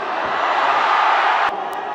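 A badminton crowd at the 2023 Thailand Open roars after a rally between Lakshya Sen and Kunlavut. The cheer is a loud, dense wash that swells and then cuts off sharply partway through.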